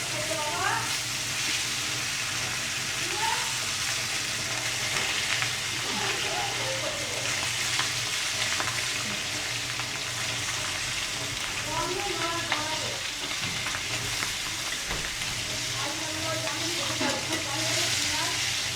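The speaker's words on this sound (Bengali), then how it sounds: "আর মাছ ভাজা হচ্ছে" Fish frying in a pan in a home kitchen, a steady close sizzle running throughout with faint clatter, while people talk intermittently over it.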